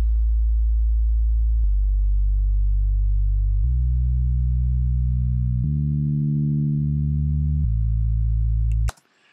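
A deep, sustained FM synth sub bass tone with a slightly growling edge steps through several held notes, loud and steady, ending abruptly with a brief click.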